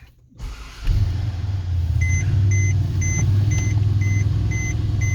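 A 2012 Mercedes-Benz CLS550 4MATIC fires up by push button after a brief quiet moment, settling into a low, steady idle rumble while a soft chime repeats at a regular pace.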